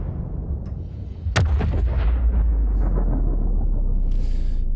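A sharp, heavy explosion sound effect booms suddenly, then rolls into a long, rumbling decay that keeps thundering low for several seconds.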